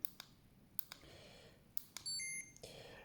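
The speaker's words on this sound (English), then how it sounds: "the meter comes preset with an audible function, which means it beeps when it first goes on and when it does a function" An On Call Plus II blood glucose meter beeping, a short electronic tone near the end among a few sharp button clicks in a quiet room.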